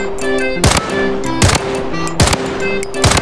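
MP5 submachine gun firing in the shooter game Blood Strike: four sharp, loud bursts at a steady interval of under a second, over a constant humming game background.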